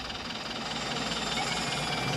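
The Polar Express train in a Roblox train game gives a continuous dense rumble and hum, steady and fairly loud, with no voices over it.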